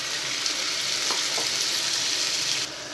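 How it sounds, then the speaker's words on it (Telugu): Steady, dense sizzling of curry paste frying in a pan, loud and continuous with a few faint stirring scrapes, easing slightly near the end. "మనం బాగా వేయించుకోవాలి"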